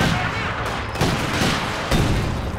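A rifle grenade launches in the Company of Heroes 2 Stalingrad battle, a dense roar of booming gunfire and explosions with sharp blasts near one and two seconds, loud and continuous.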